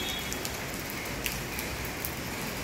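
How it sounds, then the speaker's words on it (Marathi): Steady monsoon rain falling evenly over buildings, a constant dense hiss with scattered drop taps throughout, heard alone without voices. "तर बघा असा एकसारखा पाऊस आहे."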